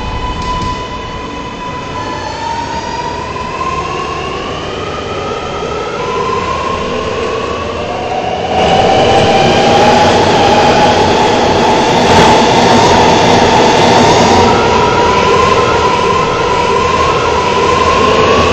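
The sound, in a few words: New York subway R211 train running between stations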